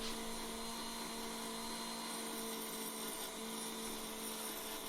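A Dremel rotary tool grinding a BGA chip off a circuit board gives a steady, faint high-pitched whine and hiss that holds unbroken throughout.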